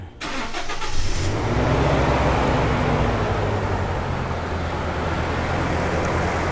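Toyota Innova engine cranks and catches, then runs close and loud with a rough, uneven sputtering idle that stumbles rather than settling into a steady hum.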